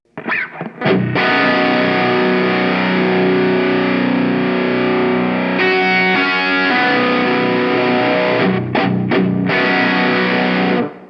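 Heavily distorted Ibanez RG421AHM electric guitar chords ring out loud and sustained through overdrive, with a few sharp picked attacks at the start and end.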